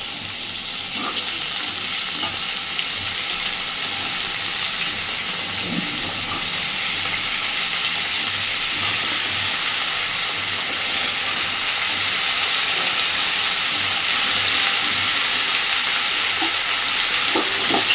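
Raw pumpkin and potato pieces fry in a pan with a loud, dense, unbroken sizzle that holds steady from start to finish, close and without talk.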